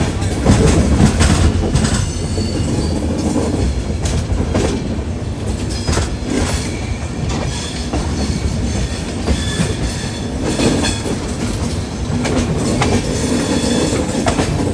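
The Howrah–SMVT Bengaluru superfast express runs near Visakhapatnam, a loud continuous rumble with rhythmic wheel clatter over rail joints and faint squeals, heard close from inside the coach.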